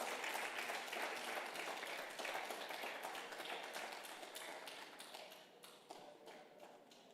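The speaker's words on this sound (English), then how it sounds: "A huge round of applause for Johnson." A conference audience applauds a speaker at an education event, with dense, steady clapping that fills the room and slowly thins and fades toward the end.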